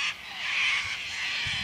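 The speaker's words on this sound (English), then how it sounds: "I can't control the bird noises." Birds call outdoors beside a bus stop early in the morning, a steady bright chorus of chirps that runs through the whole moment at moderate distance, with no one talking.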